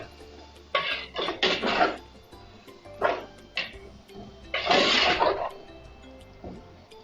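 A spoon stirs food in a pan over a low flame in a Kerala home kitchen, making several separate scraping bursts of uneven length with short quiet gaps between them.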